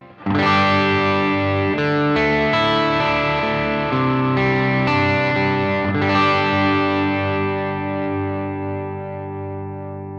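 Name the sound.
electric guitar, middle pickup, no drive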